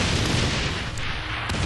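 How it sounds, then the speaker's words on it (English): Grenade launcher explosions in Saints Row The Third form a dense, continuous roar of booming blasts that stays loud throughout this short stretch. "Oh yeah, grenade launcher!"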